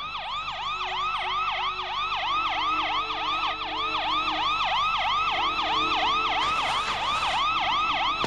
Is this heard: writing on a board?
no